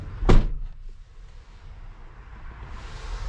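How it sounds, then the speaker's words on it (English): Door of a 2020 Airstream Interstate Grand Tour camper van shutting, a single close solid thunk right at the start, followed by a quiet interior hum. "Close the door real quick"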